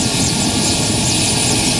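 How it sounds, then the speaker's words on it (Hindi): Loud, steady roar of an Mi-17 helicopter in flight over the Siachen region, a dense continuous engine and rotor wash heard from close range without any voices. "मी-17 हेलीकॉप्टर से सफ़र करके जब हम चूना पोस्ट पहुंचे"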